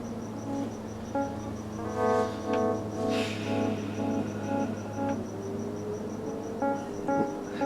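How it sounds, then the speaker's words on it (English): Crickets chirp in a steady pulsing trill outdoors, with a constant low hum and faint tonal sounds mixed in underneath. "I hear the crickets."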